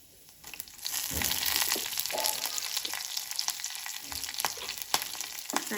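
Onions and curry leaves fry in a home kitchen pan, a steady broadband sizzle rising after a quiet start, with occasional louder crackles and stirring scrapes close by.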